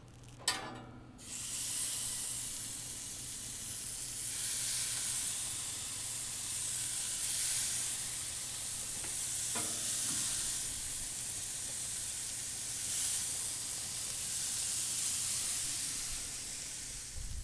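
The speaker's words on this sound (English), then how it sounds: "And now I'm going to place the kebabs." Chicken kebabs set on a hot grill, opening with a brief clatter as they go down, then a continuous broad sizzling hiss that holds steady and close for the rest of the time.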